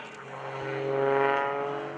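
An aerobatic stunt plane performing at the 2011 Greenwood Lake Airshow drones with a steady buzzing engine tone that swells louder toward the middle and eases off again, heard alone without talk.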